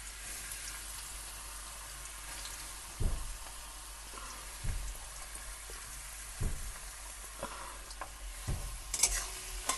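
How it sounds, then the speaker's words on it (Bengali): Finely shredded radish being stir-fried in hot oil for a tangra fish dish: a continuous soft sizzle, broken every second or two by the scrape and clatter of stirring, with no talking. "এবারে দিয়ে দেবো তেলের মধ্যে দিয়ে আমি ভালো করে নেড়ে চেড়ে নিয়ে আপনাদেরকে দেখাচ্ছি কেমন হয়েছে"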